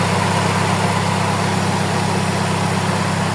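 A Mitsubishi Lancer engine with an idle problem sits at idle, giving a steady, even hum that holds unchanged throughout with no voices.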